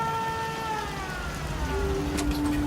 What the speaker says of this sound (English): Hit the switch. Sirens go on.